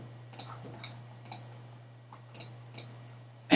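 A computer mouse clicking on a Save button in a settings window: a string of sharp, close, isolated clicks spaced unevenly over a few seconds against a steady low hum, with no talking.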